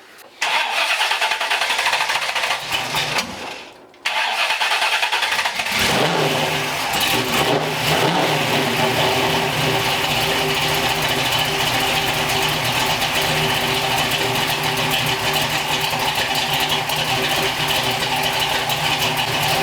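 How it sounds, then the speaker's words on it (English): A 1964 Chevrolet C10 engine with a newly installed ignition cranks and fires loudly, revs briefly, then settles into a steady, slightly rough idle that continues close up. "Let's fire it up and see how it sounds now."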